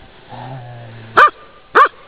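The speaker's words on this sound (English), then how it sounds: "Who's a happy dog? You're a happy dog." A dog barks twice in the snow outdoors, two short, loud, sharp barks about half a second apart, preceded by a soft low whine.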